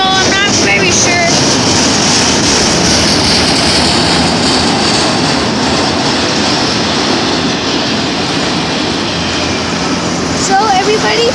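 Empty Conrail freight cars roll past in a continuous loud rumble with steady wheel and rail noise, close by, while a person talks over it.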